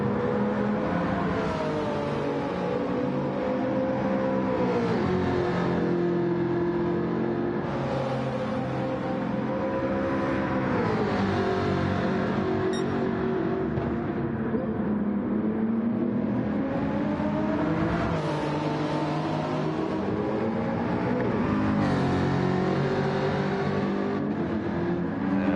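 Toyota Supra Gr-3 race car engine in Gran Turismo, a continuous high-pitched whining roar rising and falling through gear changes over about 25 seconds, steady and moderately loud, with no talk.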